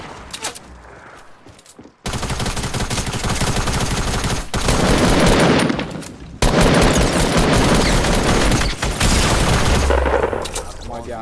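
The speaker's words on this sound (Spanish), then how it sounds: "Aprovecha ahora que me está disparando" Dense, loud bursts of rapid gunfire fill a Fortnite match, near and sustained with brief gaps, while players talk over the shooting.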